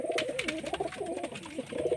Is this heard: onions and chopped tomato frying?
no